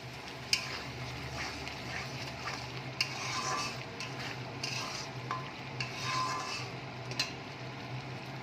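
Katla fish masala with salt, sugar and oil is stirred and sautéed in a pan. It gives a soft, continuous sizzle with repeated close scraping strokes and occasional sharp clinks of the spoon against the pan, with no talk.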